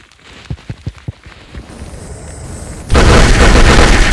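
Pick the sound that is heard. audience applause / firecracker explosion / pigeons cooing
firecracker explosion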